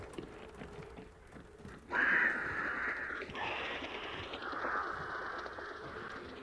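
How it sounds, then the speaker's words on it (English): Two flocks of crows caw in a video game, harsh repeated calls bursting in suddenly and overlapping, loud and close against a low ambient background, the second group following soon after the first. "that was two sets of crows going off"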